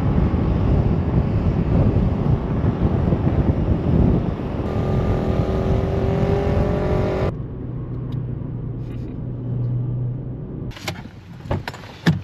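Wind gusts buffet the microphone in loud rumbling bursts, shifting in strength, with a few clicks and a faint tonal whine partway through.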